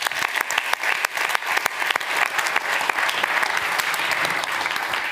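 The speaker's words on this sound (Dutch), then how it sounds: "Mag ik een hartelijk applaus voor Bibi van Montfrans." A lecture audience at a science café on cancer research gives warm applause, a loud, even patter of many hands with a few sharper claps standing out, sustained throughout.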